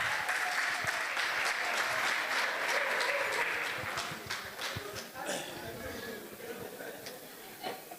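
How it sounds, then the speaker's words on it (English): A crowd claps loudly and steadily, then the applause thins out and fades with a few scattered claps toward the end. "give another big round of applause to our invited guests."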